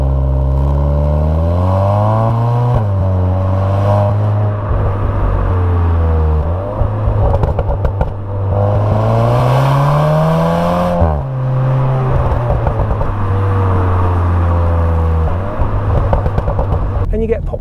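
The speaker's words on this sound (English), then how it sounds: "And you get pops and crackles as well, which is totally unexpected in a car that looks this sensible." A VW Golf R Estate, Mk7.5 with automatic gearbox, revs repeatedly, its engine note climbing and dropping in loud close sweeps while exhaust pops and crackles snap between the revs.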